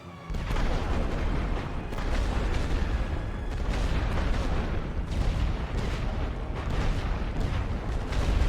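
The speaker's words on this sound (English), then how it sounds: "So let's hit them with artillery." Artillery fire in a World War I strategy video game, a continuous loud rumbling barrage of overlapping booms with no pauses.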